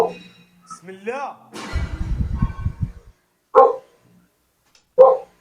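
Dogs at a house barking in sharp, loud, separate woofs close by, following a stretch of shuffling noise and a person's voice.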